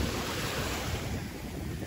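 Surf washing onto a beach at Hồ Tràm–Hồ Cốc, a continuous broad rush of ocean waves mixed with wind buffeting the microphone. It is steady and fairly close, with no talking.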